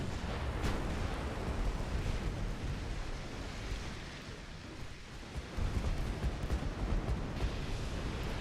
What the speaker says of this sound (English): Torpedo detonation on their battleships.